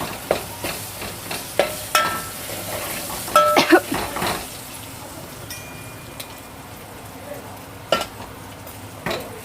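Tempering spices frying and being stirred in a pan at home, with scattered metal scrapes and clinks of a spoon against the pan over a steady low sizzle, loudest in the first few seconds.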